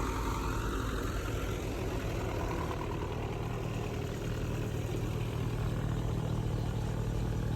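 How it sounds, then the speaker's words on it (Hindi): A tractor-driven thresher runs steadily while mustard is fed into it, giving a continuous loud mechanical drone with engine rumble and rattling clatter, close by and unbroken, with no talk. "देखें कैसे चल रही है थ्रेशर।"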